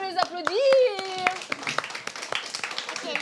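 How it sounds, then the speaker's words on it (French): A few people clap hands briefly during a casual game among friends, light scattered claps under lively chatter and laughter, with a sung or exclaimed voice at the start. "Ouais, bravo, on peut les applaudir."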